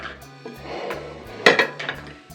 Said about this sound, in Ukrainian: Тепер беру баночки, в мене літрові, і розкладаю.